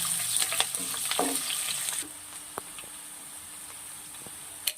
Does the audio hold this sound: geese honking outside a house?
no